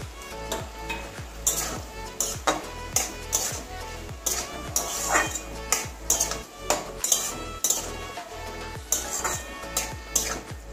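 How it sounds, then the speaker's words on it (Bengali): Tomato and okra frying together in a pan while being stirred, steady sizzle broken by repeated sharp scrapes and clinks of a spoon against the pan, close and fairly quiet. "ভালো করে আবারও মিশিয়ে দেবো টমেটো আর ভেন্ডিটা"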